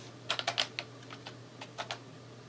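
Typing on a computer keyboard in a terminal session: a short burst of quick key clicks followed by a few sparser keystrokes, close and fairly quiet with a steady low hum underneath.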